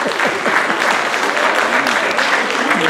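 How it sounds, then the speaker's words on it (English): An audience at a fashion show claps loudly and continuously in a thick, even burst of applause that holds for the full three seconds. "really a big applause for them"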